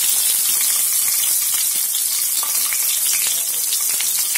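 Cumin seeds dropped into hot oil sizzle loudly and continuously up close, a dense, even crackle with no voices.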